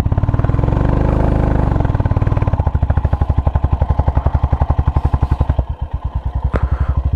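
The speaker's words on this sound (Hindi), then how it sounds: "इंजन का साउंड सुन रहे होंगे, बाइक का स्ट्रेस जो है वो आपको फील हो रहा होगा।" A motorcycle engine labours up a steep climb on a Leh trip, a loud close rapid thumping exhaust beat that shifts from a dense roar to slower, strained pulsing.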